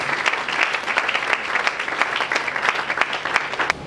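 A church congregation applauding, dense steady clapping from many hands close by, continuous throughout.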